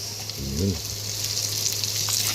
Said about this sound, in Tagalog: Sundan natin yung ating onion, sibuyas.